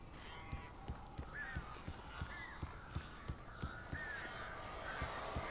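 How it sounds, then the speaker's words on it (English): Crows in the video game Alan Wake Remastered, a few faint, sparse caws sitting behind a regular pattern of dull thudding steps. "These birds are weird."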